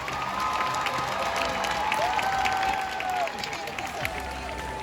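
A crowd at a high school graduation applauds steadily, dense clapping with a few cheers, tapering slightly toward the end.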